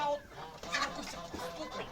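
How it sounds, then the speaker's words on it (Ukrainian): Domestic hens cluck softly and faintly as they settle onto the roost in the evening, with a low, scattered murmur of calls and no talk. "Так, мої кури йдуть на сідало."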